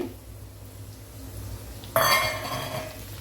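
Curry leaves dropped into hot oil: a faint quiet hiss, then a sudden loud burst of crackling sizzle that stays strong and slowly eases, close by.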